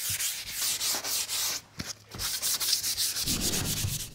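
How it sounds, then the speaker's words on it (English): A kitchen cupboard door is gently sanded by hand with fine sandpaper, giving a steady rhythmic rasping of back-and-forth strokes, close and fairly quiet, with no talking. "It's vital to give it a nice gentle sand, only with a very fine sandpaper or a sanding pad."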